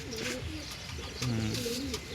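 Jarda pigeons coo in soft, repeated throaty calls at close range, several birds overlapping with short rolling phrases against a light background hiss.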